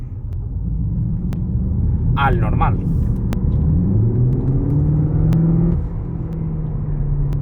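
A Cupra with the VZ pack rumbles steadily while driving, its engine note climbing as it revs midway before settling again, with someone talking over it throughout.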